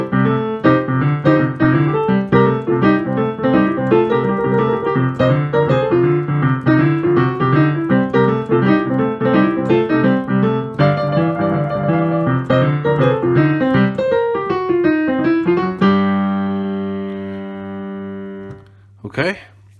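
Blues boogie woogie piano piece played on a piano, a full solo performance with busy rhythmic chords and right-hand runs, ending on a long sustained chord that rings out and fades.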